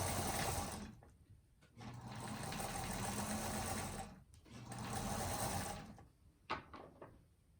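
Sewing machine stitching a table runner seam, a steady close whir running in two long spells with a short stop between, then a few soft handling clicks as it halts.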